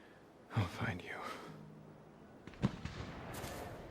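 Explosions and gunshots in the video game Days Gone, two sharp distant cracks and bursts with low rumbling, faint under a quiet game soundtrack and brief breathy voice sounds.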